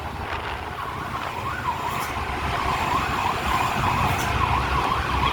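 An ambulance siren wails, rising and falling over road traffic rumble in a traffic jam, moderately loud and fairly close, with engine noise throughout.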